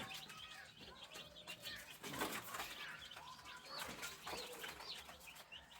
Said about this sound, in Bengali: এই যে দেখুন কোয়েল বার্ড এই যে কোয়েল দেখুন